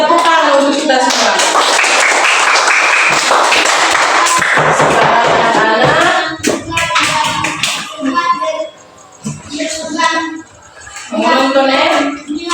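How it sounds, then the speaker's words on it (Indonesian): A group claps together in a classroom civics lesson, a loud dense burst of applause that thins out after a few seconds, with children's voices chattering and calling over it. "tepuk tangan untuk kita semua"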